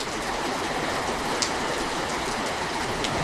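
Steady rain makes a dense, even hiss that fills the whole stretch at a constant, fairly loud level, with a few sharper drips standing out. No voices are heard.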